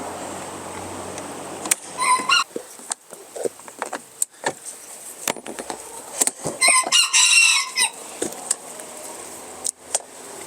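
Chickens in a laying-hen coop cluck in scattered, irregular bursts, and a rooster's loud crow rings out near the middle; the sounds come up close against a quiet background.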